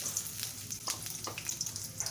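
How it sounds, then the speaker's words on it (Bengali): Chopped onions fry in hot oil in a wok, giving a steady close sizzle and hiss with a few light scrapes and clinks throughout. "দিয়ে দেব পেঁয়াজ কুচি।"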